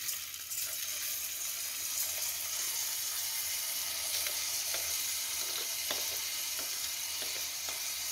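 Rice frying in hot oil for green beans with rice, a continuous bright sizzle heard close up with a few faint stirring scrapes, steady throughout and no voices.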